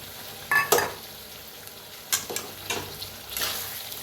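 Potatoes mixed with curd being stirred and roasted in a pan, a few scraping strokes with light sizzling between them, close and fairly quiet.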